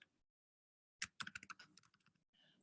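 Typing on a computer keyboard while entering text into an Excel spreadsheet cell: after a second of silence comes a quick, close run of crisp keystrokes that taper off, ending in a softer patch of noise.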